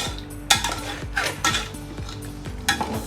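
A spoon scrapes and clinks against a pot while stirring yogurt, onion and spices for chicken korma, giving several sharp metallic knocks amid soft sizzling, close and without speech.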